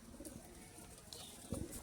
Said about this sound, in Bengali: কালাঙ্কার চোখের পায়রা। কালাঙ্কা চোখের পায়রা।